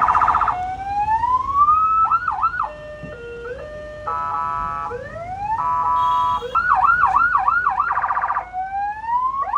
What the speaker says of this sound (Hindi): सायरन का रिमोट को दबा के रखेंगे